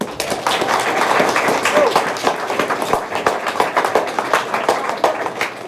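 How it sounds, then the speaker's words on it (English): A crowd claps steadily and loudly for several seconds at a school freshman induction, dense and continuous with a few sharper individual claps standing out. "I want to give you all a round of applause."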